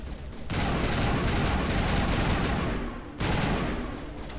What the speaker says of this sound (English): if you shoot the gas bags, they just go boom like that